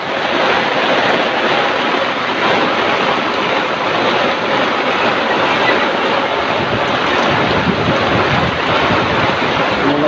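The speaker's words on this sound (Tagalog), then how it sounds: "Ang lakas ng hangin." Typhoon Carina's strong wind roars loud and steady, with rain in a broad continuous wash that never lets up, buffeting an umbrella up close.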